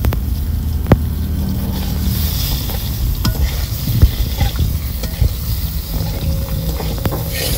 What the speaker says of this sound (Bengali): ঘর থেকে বেগুন আলু কেটে নিয়েছি, বেগুনটা বুটা সমেত কেটেছি, এবার ভেজে নেব